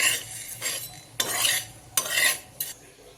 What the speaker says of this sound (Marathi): या पद्धतीनं हुलगे भाजून घ्यायचे ही गावाकडची पद्धत आहे